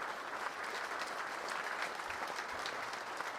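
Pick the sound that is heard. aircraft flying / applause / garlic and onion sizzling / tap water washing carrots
applause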